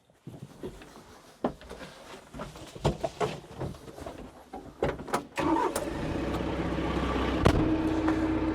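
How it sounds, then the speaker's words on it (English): Tractor engine at work on a fence-building job, beginning with scattered clunks and knocks, then the engine comes up to a steady, louder running drone for the last few seconds. "I do really like how this tractor operates."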